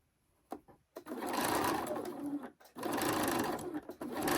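A sewing machine stitches the tie of a Christmas tree skirt. Its steady, close mechanical whirring comes in sustained runs, broken by short pauses and a couple of brief stops and starts.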